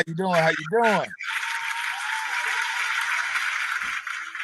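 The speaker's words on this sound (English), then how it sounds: "Gotta wait for my hand claps to die down" Applause from a studio audience welcoming a guest onto a talk show, a steady wash of clapping after a brief spoken greeting, continuing evenly to the end.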